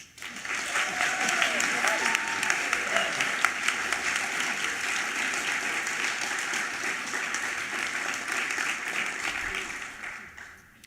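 Sustained audience applause at a college opening convocation, steady and fairly loud for about ten seconds before fading out.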